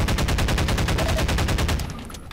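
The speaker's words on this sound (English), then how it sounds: "I'm gonna shoot at it though." Rapid automatic gunfire from Half-Life 2, a steady stream of loud, evenly spaced shots over about two seconds, close and dominant, tapering off at the end.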